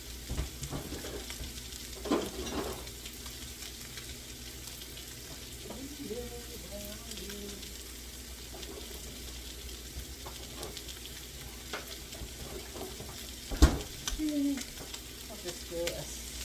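Broccoli and steak stir-fry with ginger sizzles quietly in the pan, a faint steady frying hiss broken by a few knocks and scrapes of stirring, with occasional soft talk.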